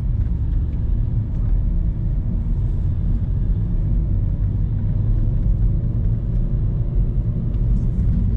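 A Renault Megane 4 drives in normal mode on a steep mountain road, with a constant deep rumble of road and engine noise heard from inside the cabin and no talking.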